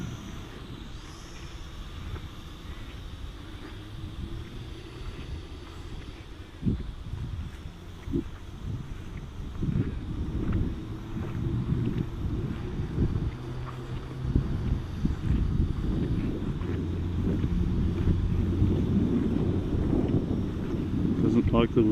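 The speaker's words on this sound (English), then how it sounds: "fighting the wind, I'm going head on into the wind now" Wind buffets and rumbles across the microphone during a JDRC JD20 toy drone flight, a continuous low roar that gradually grows stronger, with occasional faint thumps.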